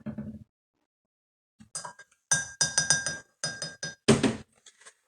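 Metal spoon clinking against a glass jar as a teaspoon of vinegar is added, with a quick run of bright clinks and taps in bursts, close and moderately loud.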